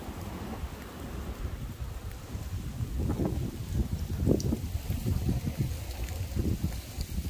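Strong wind blows outdoors in a residential area in Japan, a continuous low rumbling buffet against the microphone with several louder gusts, and no voices.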